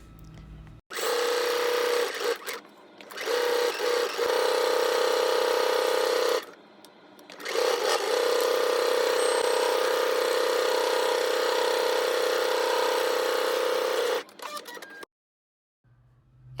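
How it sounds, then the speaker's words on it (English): A sewing machine stitches dress bodice pieces in long, steady runs with a strong mechanical whir, stopping briefly twice before a final halt, close and loud. "you're going to go ahead and stitch those together"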